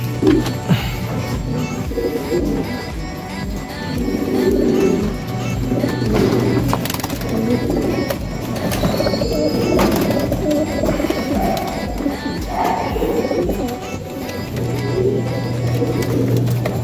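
Stock racing pigeons coo steadily in a loft, a dense, continuous low murmur of many birds close by, with water being refilled amid the flock.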